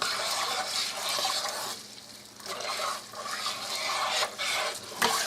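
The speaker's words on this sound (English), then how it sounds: "Here's my spoon. I'm going to just stir this up." A spoon stirs pinto beans and spices in a pot, giving a steady wet swishing and scraping that eases briefly mid-way, then picks up again, close and moderately loud, with no talking.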